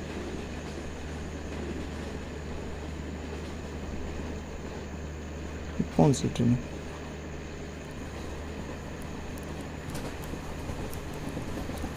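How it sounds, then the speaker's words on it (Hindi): A second train runs parallel alongside a moving train on the Hajipur route, heard from inside the carriage as a steady low rumble and rolling rail noise with a brief louder clatter midway, under occasional talk. "यहाँ पर हमारी ट्रेन के साथ कोई और ट्रेन की पैरेलल रन हो रही है"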